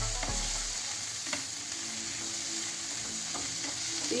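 Zucchini with pepper stirred in a hot pan: a steady loud sizzle of frying runs throughout, broken by a few soft scraping taps of the spoon against the pan, with no talking.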